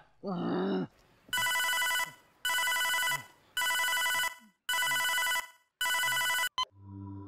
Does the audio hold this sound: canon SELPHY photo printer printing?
no